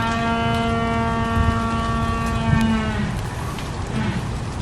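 A long, low, droning call from a large zoo animal calling to mate, steady and loud with a rich, buzzy tone that loosens and roughens toward the end.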